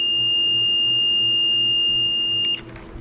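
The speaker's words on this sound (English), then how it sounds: "You can hear it beep. It's got a diode beep check." A continuous high electronic beep from a Brymen BM789 multimeter in diode/continuity check mode sounds steadily for a few seconds, then cuts off abruptly, leaving a quiet hum and a faint click.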